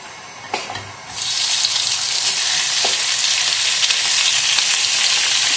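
Raw chicken strips hit a pan with about a teaspoon of hot oil and break into a loud, steady, close sizzle after a brief clatter, continuing without pause.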